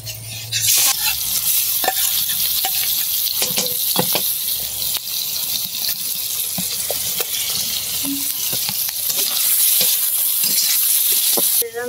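Spiced samosas sizzle and crackle loudly in hot oil, a steady close-up frying hiss with occasional stirring clatter and scraping against the pan.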